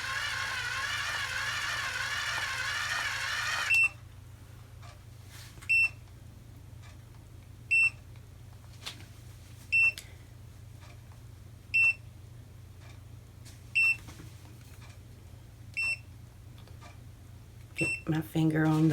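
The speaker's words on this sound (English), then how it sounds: "there's the beeps to let me know to release it" Automatic curling iron beeping while curling long hair, a faint, regular series of short high beeps about every two seconds after a stretch of speech, with a low background hum.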